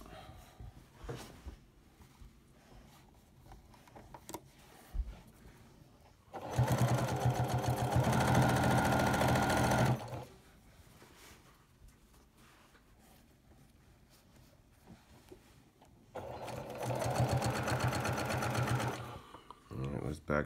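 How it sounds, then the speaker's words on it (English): A sewing machine stitches binding onto a t-shirt quilt in two steady bursts lasting a few seconds each, with a person talking quietly between the runs. "we're just gonna stitch on to finish off the side of the bind"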